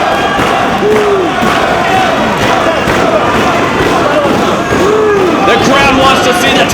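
Wrestling crowd at a Ring of Honor tag match cheering and chanting loudly, dense roaring crowd noise with shouted voices rising and falling under a commentator speaking over it.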